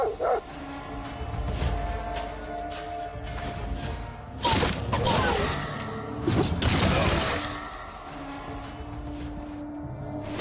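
A dog in the video game Stoneshard gives a few barks and yips over continuous game ambience, with some crashing noises in the middle and no speech.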